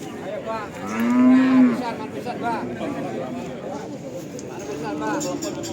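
A young bull calf, about a month old, moos loudly once at a busy Indonesian cattle market in Tuban, with more cattle lowing faintly through steady crowd chatter and people talking nearby.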